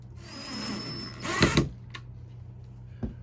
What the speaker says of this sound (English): And then I can drill the brass screw in with no problem